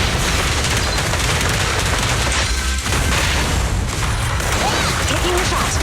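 Enemy gunfire in the video game Zenless Zone Zero during an ambush where the squad is surrounded: loud, relentless automatic fire and pops crowding close in, with voices talking over the barrage.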